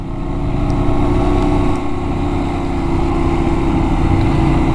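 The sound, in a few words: Benelli 752S motorcycle engine running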